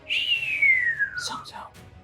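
A voice imitating a whistle build-up sound effect, a long descending whistled tone that slides down in pitch, followed by a brief breathy vocal burst.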